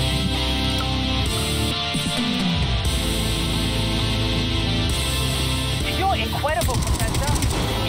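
In the video game Atomic Heart, an assault rifle fires in dense, rapid bursts at close range over a steady layer of game music and effects.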